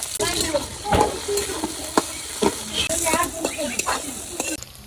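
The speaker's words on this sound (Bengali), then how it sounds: "কড়াইতে তেল দিয়ে দিলাম পিস কিছু দিয়ে দিলাম চিংড়ি মাছ দিয়ে দিলাম" Shrimp and gourd sizzle in hot oil in a wok as a spatula stirs and scrapes, with loud bursts of frying and repeated stirring clatter at close range.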